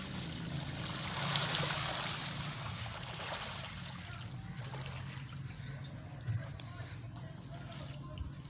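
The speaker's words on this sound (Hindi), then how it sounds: "हम इसको पानी लगाते हैं।" Water trickles and streams into a freshly sown vegetable garden bed, a soft continuous gurgle that swells early and then settles, with a few small splashes.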